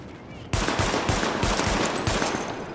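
Sidearm fired at highlighted targets in Tom Clancy's The Division video game, a loud, rapid string of close shots starting abruptly and continuing steadily for a couple of seconds.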